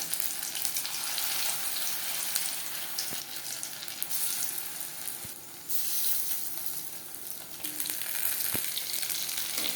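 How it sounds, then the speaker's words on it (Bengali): Prawn and vegetable pakoras deep-frying in oil over moderate heat, a steady broadband sizzle with crackling bubbles running continuously and close, with a few brief knocks partway through; no one speaks. "হাই ফ্লেমে ভাজতে যাবেন না, পকোড়া উপরে ভাজা হয়ে যাবে কিন্তু ভেতরে কাঁচা থাকবার সম্ভাবনা থাকতে পারে।"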